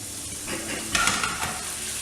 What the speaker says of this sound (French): Je remue tout cela.